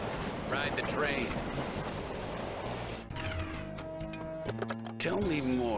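Train sound effect on a pinball video game: rumbling rail clatter and clanking under an excited voice, followed by bright synthesized musical tones and effects.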